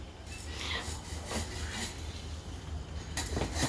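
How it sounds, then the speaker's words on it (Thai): Steady rasping of a hand saw working through a mango tree branch, continuous back-and-forth scraping under outdoor background noise. "เลื่อยเลยนี่ลุงเลื่อยมือเลยนี่"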